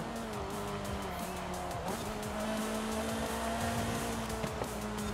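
A racing car in the Forza Horizon 5 video game, a steady engine drone with tire squeals and skids, held close and continuous throughout.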